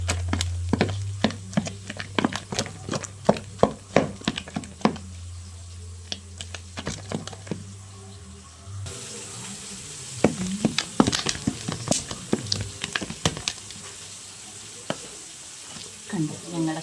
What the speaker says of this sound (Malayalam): ഇതാണ് നമ്മുടെ കപ്പ ഇളക്കുന്ന തുടുപ്പ്. അത് വെച്ച് നല്ലതായിട്ട് കുഴച്ച് ഇളക്കി കാണിച്ച്.